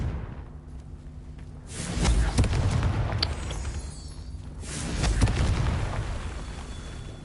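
Two booming blasts from the Confringo blasting curse in Hogwarts Legacy, each a deep, rumbling explosion that swells and then slowly fades, the second following a few seconds after the first.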